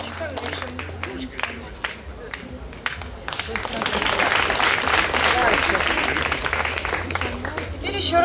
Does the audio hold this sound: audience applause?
yes